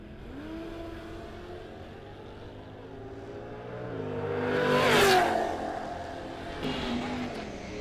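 A Camaro and an 84 Mustang accelerate in a drag race. There is an engine drone and then a rising roar that peaks as a car passes close by. The roar fades and a second surge follows.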